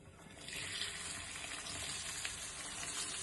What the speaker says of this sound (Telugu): ఇప్పుడు ఈ ఉల్లిపాయ తరుగు ఇందులో వేసుకోవడమే.